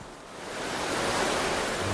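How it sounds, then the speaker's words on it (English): Steady roaring rush of a gushing waterfall on a salmon river in a temperate rainforest, building slightly in loudness and continuing as broadband noise with no voices. "The gushing waterfall further upstream seems insurmountable."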